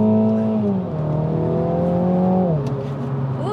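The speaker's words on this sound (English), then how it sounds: "let's see what happens when I floor it in second from 50 kilometers an hour" A MINI floored in second gear from about 50 km/h, its engine note held loud and steady with rising harmonics before a shift-like dip near the end, heard from inside the cabin with no talking.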